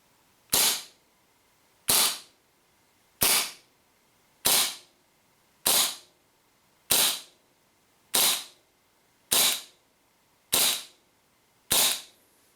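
A WE P38 gas blowback airsoft pistol fires ten evenly spaced sharp cracks about 1.3 seconds apart, each snappy report trailing off quickly, close and clear with nothing else heard between shots.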